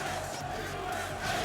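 A tournament crowd at EVO Online 2021 chants USA as a dense, sustained roar of many voices, loud and continuous without a clear break.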